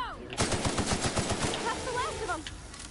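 A gun fires in the video game Outer Worlds 2, a loud rapid burst of about a dozen evenly spaced shots, followed by ringing, whining tails.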